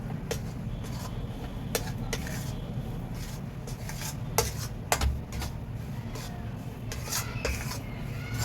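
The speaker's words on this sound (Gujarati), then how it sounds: "લોટને એડ કરી દઈશું. શેકી લેશું." A spoon scrapes and stirs flour roasting in a pan over medium flame for a chocolate adadiya sweet, with soft irregular scraping and occasional sharp clinks against the metal, close and fairly quiet.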